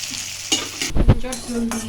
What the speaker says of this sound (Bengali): এটাকে ভালো করে ভেজে নিতে হবে একটু রসুন দেব